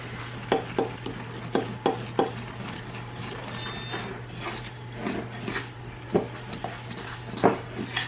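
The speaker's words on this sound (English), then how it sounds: "I'm going to stir this all together and just set it aside." Melted butter and molasses stirred together into a baking topping, a spoon tapping and scraping a bowl in soft, irregular strokes at close range.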